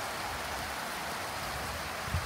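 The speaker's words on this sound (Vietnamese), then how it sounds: "Mưa to quá mấy bạn ơi." Heavy rain pouring down outdoors near a backyard lime tree, a dense steady hiss of falling water, fairly faint and unbroken, with a small bump near the end.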